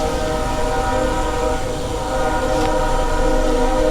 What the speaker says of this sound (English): You think that's a commuter? That must be like a Via train or something.